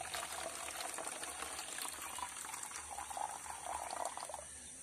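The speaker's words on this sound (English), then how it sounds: "Now let us add some more water, clear water." Water pours steadily with a continuous splashing, trickling rush, close by, lasting several seconds with no talking.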